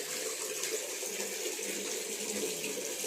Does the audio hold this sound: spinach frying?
no